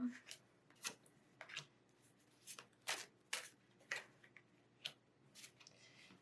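Quiet, close card shuffling: a series of short riffling bursts spaced unevenly, each a brief papery flutter with soft pauses between.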